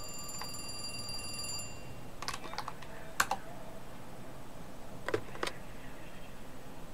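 In the video game The Cat Lady, a telephone gives a brief electronic ring at the start, followed by sparse sharp clicks and taps against quiet room noise.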